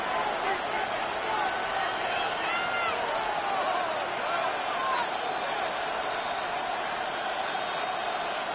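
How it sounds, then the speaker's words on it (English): Dense, steady roar of a stadium crowd at Arrowhead in the Madden NFL 26 football video game, a continuous wash of cheering noise in a tight one-point finish, filling the whole stretch without letup. "The Arrowhead crowd in full roar."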